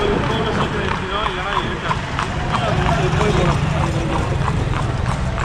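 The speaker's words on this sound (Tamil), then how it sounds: "குதிரை நம்மளை உட்கார வச்சு ஓட்டிகிட்ருக்கு" Hooves of a horse pulling a carriage clip-clop in a quick, steady trot through Luxor, Egypt, near Karnak Temple, close and continuous beneath a rumbling ride, with people talking over them.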